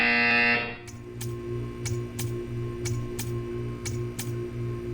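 A loud buzzer in the video game Portal 2 sounds briefly and cuts off, followed by a steady series of sharp ticks over a low electronic hum.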